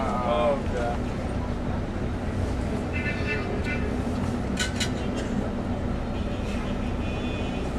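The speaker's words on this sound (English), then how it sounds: "Another tram coming." Tram passing along a busy street in Egypt, a steady rumbling roll with some squealing tones and traffic noise, while people talk nearby.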